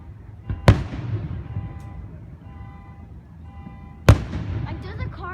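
Two sharp Fourth of July firework bangs, a few seconds apart, each followed by a rumbling tail, while a car alarm whoops in the background and people talk.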